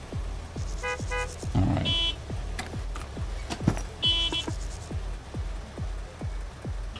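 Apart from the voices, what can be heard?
car horns honking in Gas Station Simulator video game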